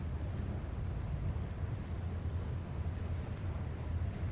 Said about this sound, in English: Only hearing the wind and the engine.